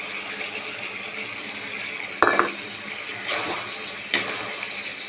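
Cornflour slurry is poured into a pan while cooking paneer chilli with capsicum and green chillies, a liquid splash and trickle over steady kitchen background noise, with a few brief clinks.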